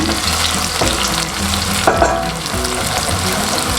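Thai market-style rice noodles (pad mee) being stir-fried in a pan, with a loud steady sizzle of hot oil and repeated scraping strokes of a spatula, close up and without any talk.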